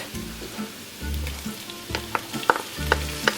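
Tomato paste is stirred in a hot pan, a low sizzle broken by rhythmic scraping strokes and a few sharp clicks of the utensil against the pan.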